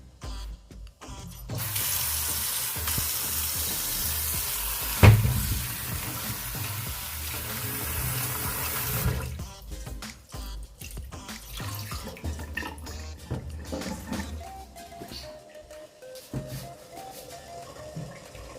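Tap water pours steadily into a kitchen sink for several seconds while potatoes are washed, then cuts off, leaving scattered clinks and handling noises; no one speaks.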